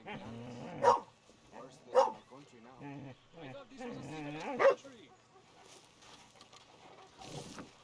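Dog in Red Dead Redemption 2 giving three separate sharp barks spaced a second or so apart, with game voices talking around and between them.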